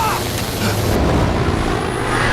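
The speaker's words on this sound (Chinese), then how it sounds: "飞机失控了" A loud, steady warplane engine roar fills the whole moment, dense and close with no pause, as the aircraft loses control.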